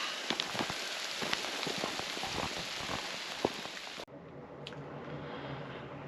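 Hail patters on surfaces at a high-country campsite around 11,000 feet: a dense, close spatter of sharp ticks and drips that cuts off abruptly near the end, leaving only a faint quieter patter.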